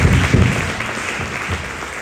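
Church congregation applauding to acclaim Jesus Christ during a sermon, a dense, steady wash of clapping from many hands filling the room without pause.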